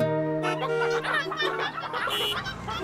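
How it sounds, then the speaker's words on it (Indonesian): Chickens cluck and squawk close by in a busy, overlapping flurry of calls. "Ayam-ayam dari truk menghalangi lalu lintas."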